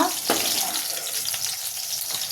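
Large brinjal pieces fry in hot oil, giving a steady, close, hissing sizzle with a few soft knocks of utensils and no speech.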